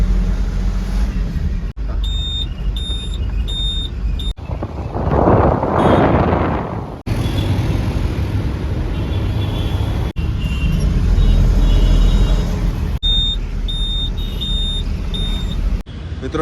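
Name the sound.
loaded vehicle setting off and driving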